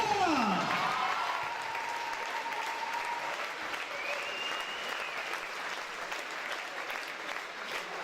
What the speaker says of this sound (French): Applaudissements s'il vous plaît pour Irina.